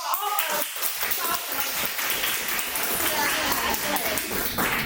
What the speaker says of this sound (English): So round applause.